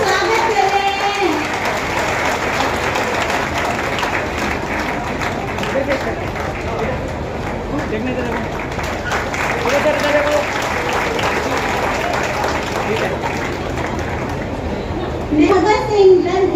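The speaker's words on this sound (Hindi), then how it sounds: "तालियां बजती रहनी चाहिए।" Audience clapping at a welcome ceremony during a program on tribal leaders in the independence movement, sustained applause throughout with an announcer's voice over it.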